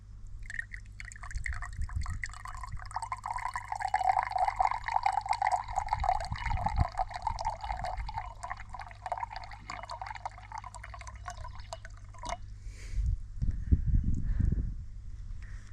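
Water draining out of a filter bag outlet, a steady trickling pour with dripping and splashing that cuts off near the end, followed by a few low knocks and handling sounds.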